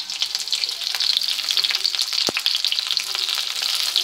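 Sliced potatoes and chopped onion sizzle steadily in a pan, a dense continuous crackle with occasional stirring scrapes and one brief sharp clink midway, close and fairly loud.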